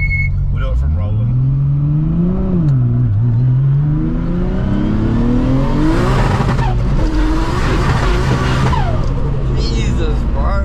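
Nissan S15 Silvia with an RB25 engine converted to all-wheel drive, accelerating hard from a rolling start: a loud, close engine note climbing steadily in pitch through the gears, with a brief tire-skid edge and people talking over it.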